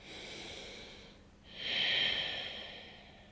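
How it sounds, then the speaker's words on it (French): Ujjayi breathing during a yoga flow, a soft ocean-like rush through a constricted throat: one long breath fades, a brief pause follows, then a stronger, louder breath swells and slowly trails off, close and alone. "Respiration Ujjayi, garde le centre du corps serré."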